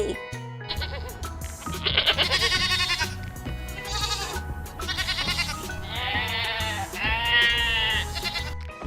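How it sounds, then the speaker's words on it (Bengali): Goat kids bleat in a series of wavering, nasal calls, close and fairly loud, over a steady musical backing. "ছয় ছাগল ছানা লাফিয়ে চলে"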